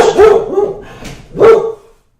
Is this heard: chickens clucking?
no